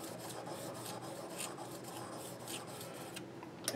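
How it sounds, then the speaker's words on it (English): Steel rubbed back and forth on a Washita sharpening stone to take off a burr, making a quiet, close, rhythmic rasping scrape of repeated strokes with no talking. "washita stone here and just kind of rub this back and forth"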